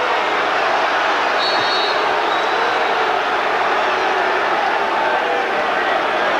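A lively arena crowd at a 1988 UNLV vs Temple college basketball game roars in a dense, continuous wash of cheering that stays loud and unbroken throughout.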